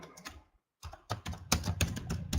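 Quick bursts of computer keyboard typing, close and fairly quiet, with a short pause of silence before the keystrokes resume in a denser, steady clatter.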